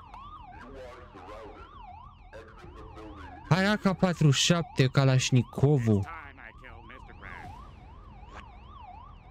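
Wailing police siren from a SpongeBob video game, rising and falling in a steady zigzag throughout, with someone talking loudly over it in the middle.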